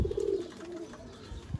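Pigeons cooing softly nearby, a low throaty coo rolling out in the first half and another brief coo near the end, with faint background rustle and no talking.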